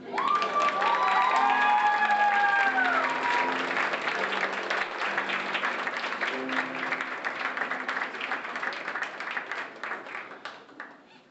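Audience applause at an Ohio State Marion academic recognition ceremony honoring Associate of Arts degree recipients, with scattered cheers and voices at first, sustained dense clapping throughout that thins slightly toward the end.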